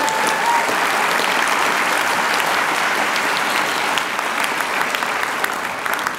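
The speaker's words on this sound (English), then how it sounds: "Can we clap for that?" Audience at a university public policy school commencement breaking into applause, a loud, dense wash of clapping that holds steady for several seconds with a few scattered cheers mixed in.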